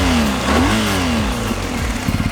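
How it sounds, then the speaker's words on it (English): A BMW R1250GS motorcycle engine revs in enduro throttle mode, rising and falling in pitch as the throttle is blipped, then settling into a throbbing idle, close and loud with no talking. "So this is the way the throttle responds in enduro mode."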